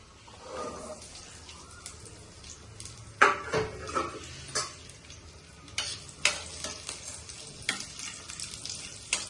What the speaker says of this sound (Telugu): ఇప్పుడు ఈ ఒక్కాయ ముక్కల్ని నూనెలో వేసి కొంచెం వేయించుకోవాలి